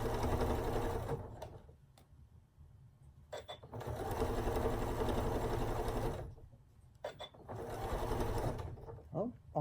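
A sewing machine runs slowly over bulky little seams on a scrap quilt, stitching in three sustained loud bursts with brief pauses and small clicks between them.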